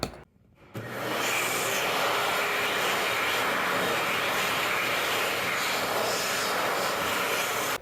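An Xlerator hand dryer fitted with a 1.1 nozzle starts after a short quiet moment and then runs with a loud, steady, high-pitched jet-like roar, close by.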